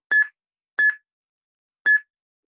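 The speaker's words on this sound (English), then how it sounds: "wait for those beeps and we'll all go together" Three short electronic timer beeps, evenly spaced and clean, each a bright two-tone bleep separated by silence, marking the start of an off-ice skating balance exercise.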